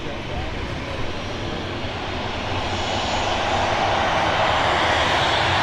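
A Ryanair aircraft taxis at Manchester Airport, its engines producing a steady broad roar that grows slightly louder, with a voice speaking over the engine noise.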